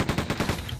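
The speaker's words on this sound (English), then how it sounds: "Oh, machine gun, nice." Machine gun firing in the video game Quake 2, a rapid burst of about eight evenly spaced shots, loud and close, stopping within a second.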